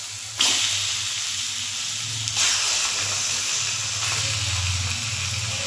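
Chicken liver and stomach drop into hot, well-fried spice paste in a pan, setting off loud, steady sizzling and hissing, with fresh bursts as more pieces go in.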